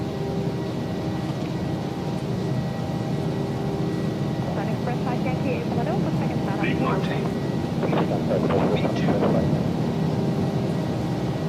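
PMDG 737-800 jet engines at takeoff thrust in Microsoft Flight Simulator 2024 give a steady, loud, broadband roar that holds constant throughout, with faint clicks and rattles on top.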